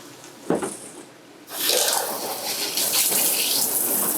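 Water runs in an RV bathroom shower, starting with a brief tap or knock and then a steady, moderately loud hiss of flowing water.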